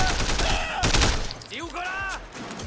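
Rapid gunfire bursts and impacts from the open-world action game Sleeping Dogs, loud and dense, with a voice talking over the shots.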